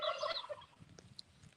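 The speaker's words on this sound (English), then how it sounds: "Let me see if I can get all my chickens to come to me." Garden chickens make a loud burst of gobbling, clucking calls up close, then faint rustling and a few soft chirps afterward.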